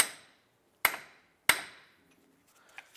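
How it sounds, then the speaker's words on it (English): Two sharp metallic hammer strikes on a punch set against a 2001-2005 Honda Civic CV axle ring out about half a second apart, each decaying quickly, with quiet between them. "use a punch, set it in there, whack it with a hammer"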